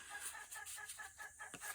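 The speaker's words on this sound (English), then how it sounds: "My chickens are going nuts." Backyard chickens clucking and squawking in a busy, agitated chorus, with repeated short calls close by and no talk over them.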